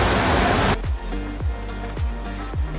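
Water at Gunung Janggut waterfall rushes in a loud, dense roar for under a second, then cuts off abruptly to a series of rhythmic low thumps with tonal hum.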